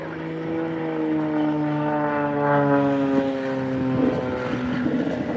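Propeller aerobatic display aircraft of the Blades team flying a slow roll at the Farnborough Airshow 2022, a steady droning engine with layered harmonics that rises and shifts slightly in pitch as it passes, loud and continuous with no talk.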